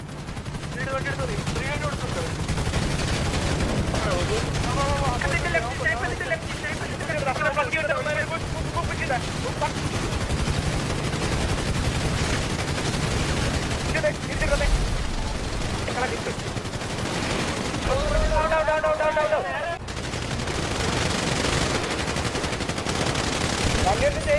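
Video-game gunfire rattles in dense, continuous bursts, like machine-gun fire, through the whole stretch, with people talking over it.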